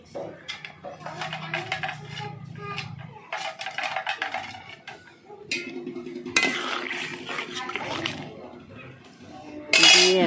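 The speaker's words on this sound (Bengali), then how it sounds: "এবারে কিন্তু আমি ভেজে রাখা মাছটা দিয়ে দিচ্ছি।" Fried small fish tipped into a pot of potato curry, with metal clatter, scraping and clinking of utensils against the pot, close and fairly busy throughout, ending in a louder burst of clanking.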